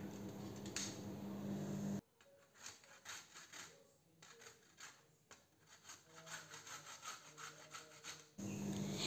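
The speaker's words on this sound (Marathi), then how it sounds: "आता हे नारळ मी मागच्या साईडचा सर्व भाग येथे मी किसून घेत आहे" Dried coconut hand-grated on a grater, a close series of rough rasping strokes in an uneven rhythm, fairly quiet, with no talk.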